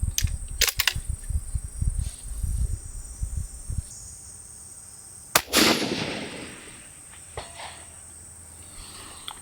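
A single sharp shot from a Thompson Contender rifle on a long-range shooting line cracks out midway, followed by a decaying echo over background insect chirping.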